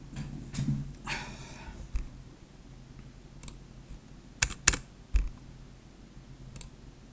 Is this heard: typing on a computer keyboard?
yes